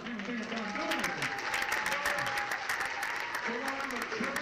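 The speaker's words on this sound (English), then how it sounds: "Give them a big round of applause." Applause from a banquet crowd for a rookie snowmobile racing team from Canada at an Iron Dog race event, steady sustained clapping heard under an announcer's amplified voice.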